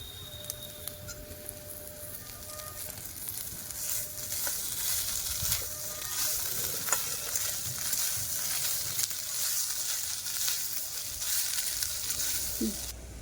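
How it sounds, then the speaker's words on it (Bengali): Paneer frying in hot oil in a pan for stuffed aloo dum, a soft continuous sizzle with crackles and occasional stirring scrapes, fairly quiet and without talk. "এগুলো ভেজে নিয়ে আমি পনিরটা দেবো"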